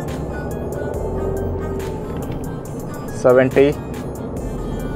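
A Mahindra XUV700 AX5 petrol with a six-gear box accelerates along an empty Mysuru ring road. A steady low engine hum and road noise fill the cabin while a man briefly calls out a number.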